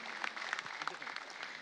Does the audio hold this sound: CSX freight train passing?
no